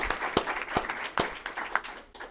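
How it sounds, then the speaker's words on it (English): Applause from a conference audience on maternal health, with loud individual claps standing out sharply in an irregular rhythm over a softer, sparse background of clapping. "So applause to everyone."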